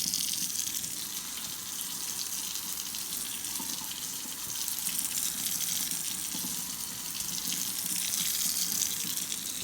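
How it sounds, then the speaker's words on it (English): Running water gushes steadily from a kitchen tap while a surface is washed with soapy water and a sponge, a constant bright rushing sound with no break. "we are going to wash our surface with soapy water"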